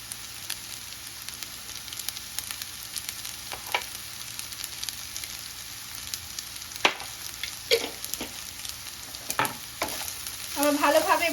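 Cheese pasta with chilli flakes and oregano is stirred in a pan, giving a soft steady sizzle broken by occasional scrapes and clinks of the spoon, quiet and close.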